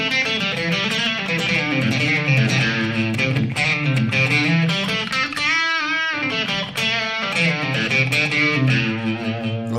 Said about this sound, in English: I like just enough of that overdrive to where I can do in between blues and that country rock